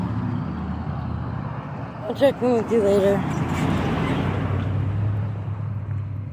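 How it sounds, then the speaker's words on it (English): Heavy road traffic rumbles steadily, with loud trucks and motorcycles passing close by while a person speaks briefly over the noise. "Loud motorcycles and loud trucks"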